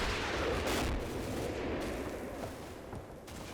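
Artillery fire in the video game Combat Mission: Battle for Normandy: a dense, continuous rumble of gunfire and distant blasts, loud and sustained across the whole clip.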